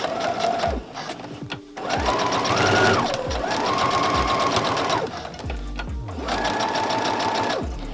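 A sewing machine stitching a cloth pad runs in three close, loud whirring bursts of rapid stitching, with short pauses between them as the fabric is turned.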